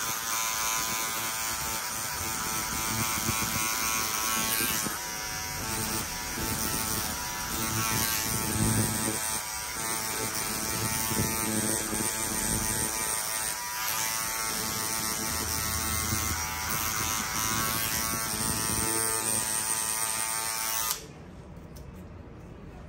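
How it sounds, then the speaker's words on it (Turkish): An electric hair clipper drones steadily throughout a mid fade haircut, its motor humming loud and close and dipping in pitch as it bogs down in the hair, then cutting out near the end. "Fark ediyorsanız makine biraz boğuldu."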